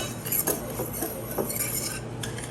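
Dry cornmeal ingredients for a tamale pie are mixed in a bowl, producing soft, repeated scraping and stirring strokes with occasional light utensil clinks, close and moderately quiet.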